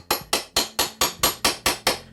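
A hammer tapping on a window frame to work a nail puller under the trim, nine sharp evenly spaced knocks close and loud, each ringing briefly before the next.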